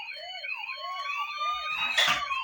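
A toy police siren wails in quick repeating up-down sweeps, electronic and close, with a burst of noise near the end.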